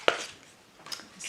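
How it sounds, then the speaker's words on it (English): Two quick, sharp scissor snips through card while cutting out a shadow puppet shape, one at the start and one near the end, with quiet in between. "So I'm just going to go around the outline a little bit here with my scissors."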